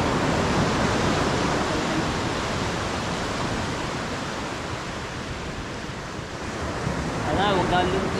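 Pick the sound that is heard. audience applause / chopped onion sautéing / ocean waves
ocean waves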